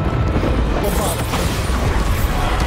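A Bombarda explosion spell in Hogwarts Legacy, a loud dense rumbling blast with crashing debris filling the whole stretch, continuous and close with no clear pauses.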